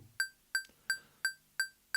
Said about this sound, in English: So if I start a click that's in 6/8